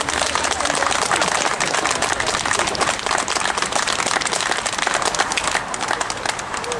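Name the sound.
audience applause at a demonstration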